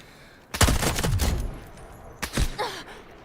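Two loud, close sniper shots ring out in the Delta Force video game, the first with a long echoing tail and the second a second and a half later, followed by quieter rattles.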